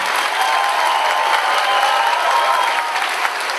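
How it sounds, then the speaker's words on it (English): At a convention closing ceremony, a large crowd gives the hotel staff a sustained round of applause, loud, dense clapping with some cheering mixed in. "A round of applause"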